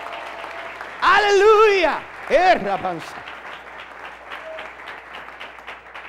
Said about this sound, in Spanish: dale ese aplauso a la gloria de Dios